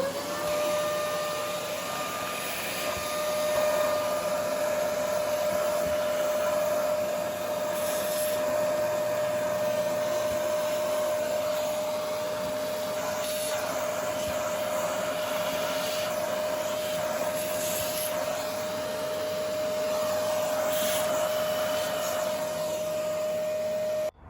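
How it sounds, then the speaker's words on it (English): Vacuum cleaner running continuously while clearing debris from a mower air cleaner, a steady high whine with a strong tone, the airflow note shifting slightly as the nozzle moves, fairly quiet and unaccompanied by talk. "It's vacuum time."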